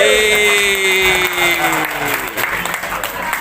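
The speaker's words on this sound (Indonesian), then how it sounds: "Kita beri aplaus buat Bu." An audience at an educational seminar bursts into loud applause, the clapping dense at first and then thinning into scattered claps as it fades, with a sustained tone carrying over the start.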